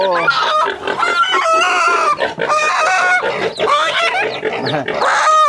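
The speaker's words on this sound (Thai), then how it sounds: "น้องไก่ร้อง" Chickens, a mother hen with her newly hatched chicks at a backyard coop, cluck and squawk loudly and continuously at close range, with high peeping cries layered over one another.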